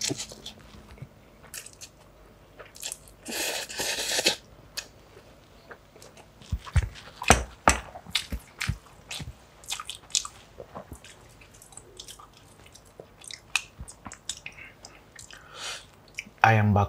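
Crunchy, wet chewing and slurping of Maggi instant noodles eaten with chopsticks, close and loud in irregular bursts, with someone talking in between bites.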